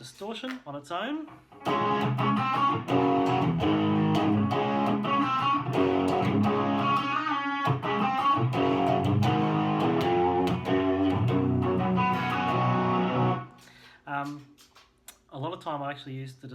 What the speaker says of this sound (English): Distortion on its own.